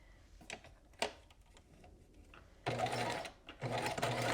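Zigzag stitching on a sewing machine attaches a knit neckband at center back, starting with a few isolated clicks and taps before the motor runs in two close, steady bursts of rapid needle rhythm.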